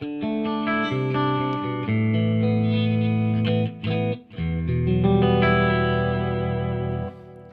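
A clean electric guitar on the neck pickup plays bright, glassy, scooped chords and notes with a slight shimmer, a short pause in the middle before ringing out again.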